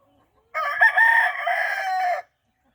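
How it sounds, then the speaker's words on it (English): A rooster on a farm crows once, loud and close, a long drawn-out call with chickens clucking faintly around it, heard on its own without talk. "That's a rooster here."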